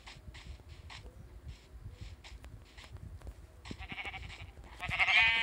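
Sheep in the Minecraft video game bleat in a series of short, quiet calls over faint footstep-like clicks, ending in a louder burst of game noise.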